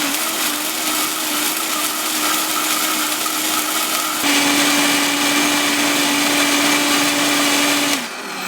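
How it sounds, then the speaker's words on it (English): A blender whirs steadily through a batch of Irish sea moss gel with water, a loud close motor drone that shifts pitch partway through as the mixture smooths, then cuts off at the end. "So blend it till it's completely smooth."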